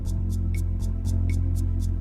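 A 120 BPM Bossa Nova rhythm plays from an organ's drum-and-bass accompaniment, with a steady low bass line under evenly spaced hi-hat-like ticks and occasional light accents, loud and continuous with no voices.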